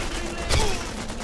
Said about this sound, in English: Who else is fucking shooting?